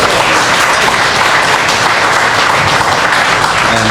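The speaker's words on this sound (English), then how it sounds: "So let's give everybody's family a round of applause." Dense, loud applause rolls continuously from a crowd at a police promotion ceremony in New York, a steady wash of many hands clapping.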